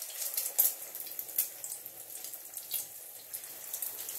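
A hake fillet, dipped in flour and egg, fries in a pan with a soft, steady hiss and faint crackles, quiet and close with no one talking.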